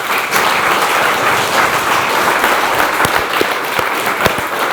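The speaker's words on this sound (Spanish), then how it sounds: "Denle un aplauso a Dios, por favor." A church congregation claps together in sustained, dense applause, loud and close, with a few sharper individual claps standing out near the end.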